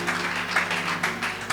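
A church congregation applauding, dense continuous clapping with a few sharper peaks, loud and close, with some voices mixed in.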